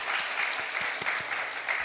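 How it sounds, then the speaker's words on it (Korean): An audience at a church Bible-study gathering applauds after a pastor's lecture, with brief, even clapping at moderate loudness. "우리 다시 한번 박수하겠습니다."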